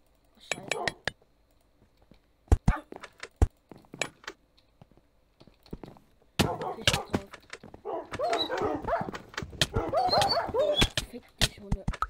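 Minecraft wolves bark and whimper amid clicking key presses and clattering game effects, in sparse bursts at first and then a dense, busy stretch, with someone talking at times.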